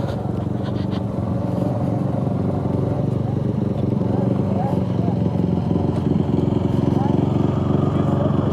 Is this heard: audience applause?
no